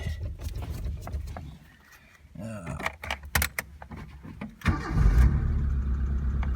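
1985 Holden MB Barina (Suzuki Swift) with ignition problems: keys jangle and the starter cranks in bursts before the engine catches into a rough running idle, with people talking nearby.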